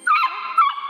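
A dog gives a couple of short, close, fairly loud barks that fade into a whiny yip.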